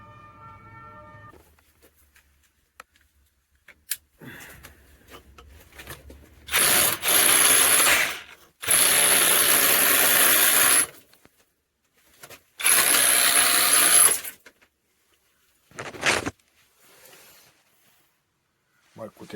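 Cordless brushless hammer drill with two 5000 mAh batteries chiselling into a solid wall, several loud bursts of harsh rattling hammering a few seconds each, separated by quieter pauses with faint background sounds.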